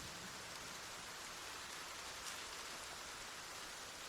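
Steady rainfall in a video game hisses evenly throughout, a constant soft wash of drops with no talking.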